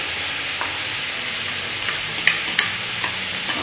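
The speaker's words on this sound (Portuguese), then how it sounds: "o outro passo é colocar o alho picadinho e a cebola" Chopped garlic and onion fry in a pan, giving an even, steady sizzle with a few soft ticks and taps of stirring, close and moderately loud.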